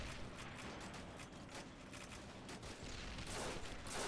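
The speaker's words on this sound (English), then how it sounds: "Look at the covering fire down here." Continuous covering gunfire in the WWII strategy game Men of War: Assault Squad, a dense, steady barrage of overlapping shots and bursts with mechanical clatter, loud and unbroken with no talking.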